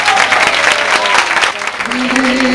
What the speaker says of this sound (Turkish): projenin sahipleri bir alkışlayabilir miyiz o zaman?